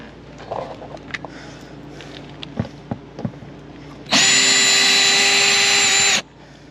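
A cordless power drill whirs steadily for about two seconds while backing screws out of RV hardware, loud and close, after a stretch of light tapping and handling noises.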